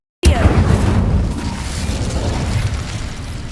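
An Incendio fire spell from Hogwarts Legacy erupts with a sudden loud whooshing burst, then settles into a roaring, crackling rumble that slowly fades over a few seconds.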